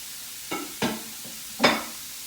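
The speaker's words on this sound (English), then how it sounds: "So this should be nice and hot. So what I'm going to do, I'm going to put my ground pork in there." Ground pork sizzles in a hot Power XL pan under a low steady hiss, broken by three short stirring scrapes as the meat is pushed around, close and fairly quiet.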